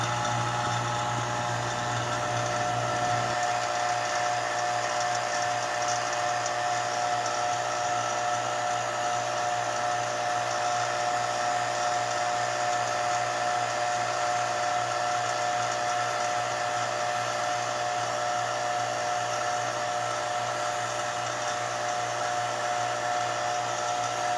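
A vacuum pump for carbon fiber resin infusion whines steadily at close range, its drone unbroken and loud throughout, with a slight drop in low rumble early on.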